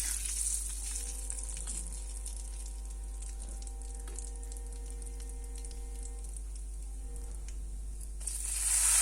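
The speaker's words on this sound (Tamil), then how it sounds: "அது எல்லாமே நல்லா பொரிஞ்சிரட்டும்." Mustard seeds, cumin, asafoetida and fenugreek splutter in hot oil for a traditional garlic kuzhambu, a continuous close sizzle with small pops under a steady low hum, without talking.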